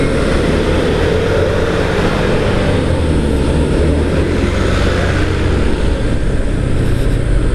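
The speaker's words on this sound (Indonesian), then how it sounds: "Ini ada beberapa truk Pertamina." Pertamina fuel trucks rumbling past on a rough mountain road near Ciwidey, a loud, dense, continuous engine roar and road noise throughout, no talking.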